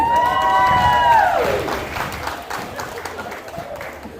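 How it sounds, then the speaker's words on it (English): Applause and cheering from a pageant audience greeting the contestants at the Miss Samoa Pageant 2023, a loud burst of whoops over clapping that eases into steady, fainter crowd clapping. "let's give these very brave and beautiful ladies another round of applause"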